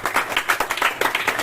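An audience claps during a Telugu Christian sermon, a brief burst of fairly close, rhythmic clapping with distinct individual claps and no speech.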